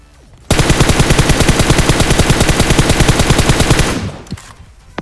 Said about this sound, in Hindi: अब जो गोलियों की आवाज आ रही है वो भैया यहीं से आ रही है